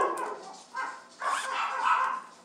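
Dogs bark and whine excitedly at snow plows passing on the road outside, a run of close, agitated yelps and whimpers rising and falling without pause.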